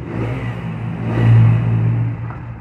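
A motorcycle engine with an aftermarket exhaust, likely an Apache RTR 160 4V, revs up once to a loud, throaty peak and settles back into a rumbling idle, heard nearby.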